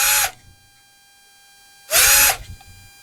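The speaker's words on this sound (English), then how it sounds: "I'll just use a big drill bit" Two short bursts of a power drill boring through sheet aluminum with a large bit, each roughly a quarter second long, loud and close, separated by a quiet pause with a steady faint hum.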